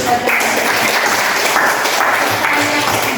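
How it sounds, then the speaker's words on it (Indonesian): Students clapping in a classroom after a group answers a lesson on corrosion, a loud, close, continuous burst of applause with a few faint voices mixed in. "Tepuk tangan."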